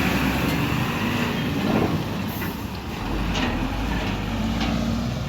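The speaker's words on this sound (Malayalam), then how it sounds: "അപ്പോൾ നമ്മുടെ വണ്ടി പോകുന്നുണ്ട് കേട്ടോ." Container lorry pulling away on a road, a steady broadband rumble with a low engine drone that holds at a moderate level throughout, with no talk.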